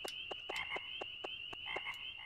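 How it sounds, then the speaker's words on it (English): Frogs croak at a summer night in the Harvest Moon 64 video game, a steady rhythmic chorus of short repeated calls over a constant high tone. "As you can tell, we are hearing frogs now."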